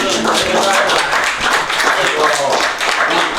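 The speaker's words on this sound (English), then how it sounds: "y'all give me a round of applause" An audience gives a round of applause, dense clapping and cheering filling the space steadily from start to finish, with voices mixed into the crowd noise.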